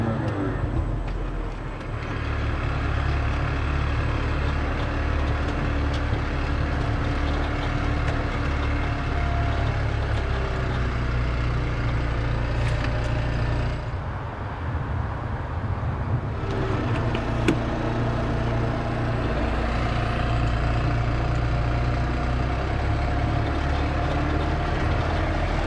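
A fire engine descends a steep 18.5-degree test slope during a handbrake test, its engine giving a sustained heavy low drone that dips briefly midway and then returns, steady and fairly close throughout.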